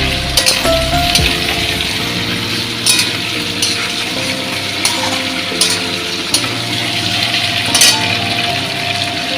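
Crushed garlic frying in a pan of oil after potatoes, a steady close sizzle with clinks and scrapes as it is stirred, and no talking.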